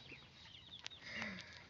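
Chickens cluck softly inside a coop that has been upgraded against raccoons and other predators. The clucks are faint and scattered over quiet background noise.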